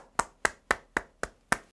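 Applause for a child who cooked, made of six crisp, evenly spaced hand claps at a steady beat, close and clear with nothing else underneath.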